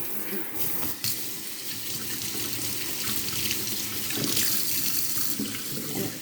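A cleaning cloth is rinsed under a running kitchen sink tap, a steady close splashing rush of water that swells and shifts as the cloth moves through the stream.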